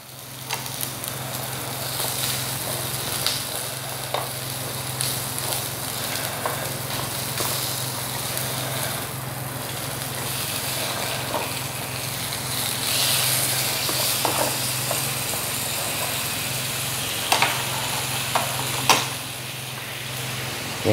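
Food fries in a covered pan, giving a steady, close sizzling hiss that runs throughout with a low hum beneath and a few brief clicks near the end.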